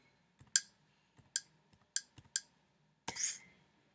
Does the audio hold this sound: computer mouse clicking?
yes